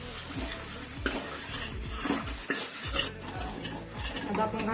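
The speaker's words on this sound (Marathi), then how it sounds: "तेल सुटेपर्यंत आपण हे परतून घेऊया." A spoon stirs red chili powder and ground chicken masala sizzling in hot oil in a pan on a gas stove for a village-style chicken rassa. It scrapes in repeated close strokes over a continuous frying hiss, with no voices.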